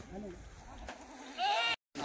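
Kathiawadi goats bleat at a goat sale, one clear bleat rising near the end amid crowd murmur and nearby talk, before a sudden cutoff.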